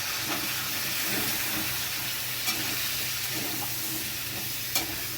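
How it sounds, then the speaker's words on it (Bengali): Sliced raw tomato, onion and potato frying in hot oil while being stirred, giving a steady low sizzle and hiss throughout with faint scraping clicks and no voices. "সবজিগুলো তেলের মধ্যে দিয়ে একটু নাড়াচাড়া করে নিচ্ছি"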